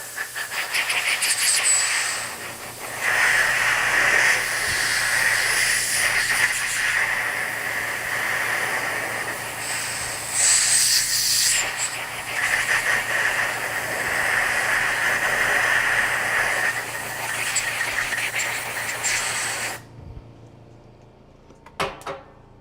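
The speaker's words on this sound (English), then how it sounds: "I'm gonna use the blow-off tool here." A compressed air blow-off tool blasts freshly rinsed parts from a dismantled cold cathode gauge and roughing pump, a loud steady hiss with brief surges that runs for about twenty seconds before cutting off.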